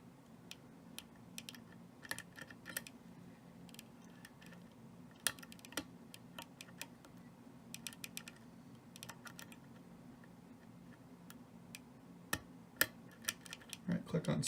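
Faint pin clicks from picking an Ikon SK6 lock: scattered small ticks and clicks, irregular and close, with a few sharper clicks near the end over quiet room tone.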